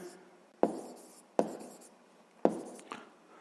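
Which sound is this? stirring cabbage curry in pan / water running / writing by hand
writing by hand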